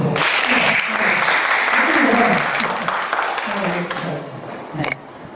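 Classroom audience applauding after a student's chemistry presentation, a steady burst of many hands clapping that lasts several seconds, then tapers with a brief final flourish near the end.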